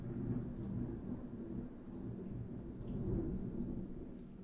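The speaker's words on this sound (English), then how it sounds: "stopped for a second and then just thunder outside" A low, faint rumble of thunder rolls steadily in the distance, muffled and continuous with no talking.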